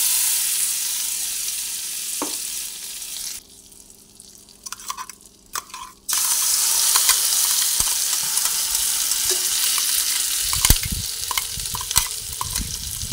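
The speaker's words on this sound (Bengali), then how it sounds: "এরপরে সেই পেস্টটা এক এক করে তেলের মধ্যে আমি দিয়ে দিচ্ছি।" Spice paste for aam potol (mango and pointed gourd) dropped piece by piece into hot oil, crackling into a loud steady sizzle with stirring, after a brief quieter stretch over a low gas flame.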